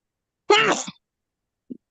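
A single sharp sneeze bursts out close by, followed by a short faint sound after a pause.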